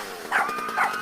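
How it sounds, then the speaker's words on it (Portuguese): A dog gives two sharp barks, a fairly close, loud pair spaced about half a second apart with nothing else around them. "Ataque do cão."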